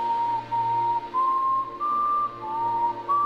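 A person whistles the tune Yankee Doodle, a clear steady melody of held notes stepping up and down, close and fairly loud with no talking over it.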